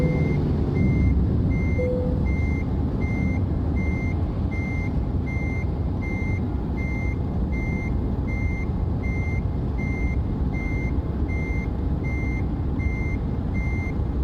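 Truck in American Truck Simulator backing up, its reversing alarm beeping in a steady, evenly spaced rhythm over a constant low engine drone, loud and close, with no talking.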